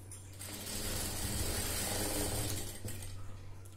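A sewing machine stitches a short cross seam on a blouse piece, a close, steady ticking whirr of needle and gears running without pause for a few seconds.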